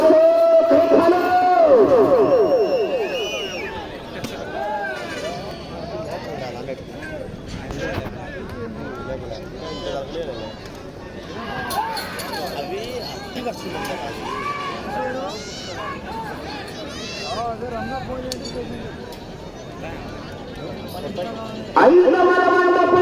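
A crowd shouts and cheers at a bull race, with bursts of loud yelling near the start and end and a busy background clamour in between, heard under a commentator's constant talking.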